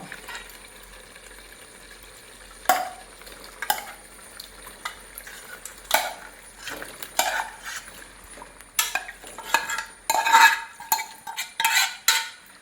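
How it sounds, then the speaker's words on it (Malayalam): Chicken pieces stirred into roasted coconut masala in a pan, with a low sizzle under repeated scraping and clinking of a spoon against the pan, louder clusters toward the end. "നമുക്ക് ചിക്കൻ അതിലേക്ക് ഇടാം കേട്ടോ"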